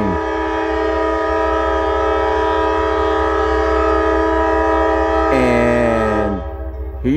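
A northbound train rolls slowly past at close range, a loud steady rumble with a strong sustained horn blast near the end as the sound tapers off.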